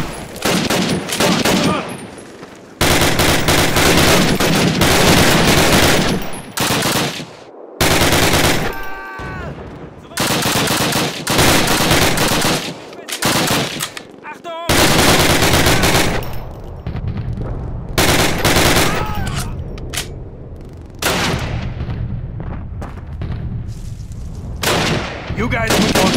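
Rapid, loud bursts of automatic gunfire and explosions fill a Call of Duty battle, with short pauses between volleys and voices shouting in the background.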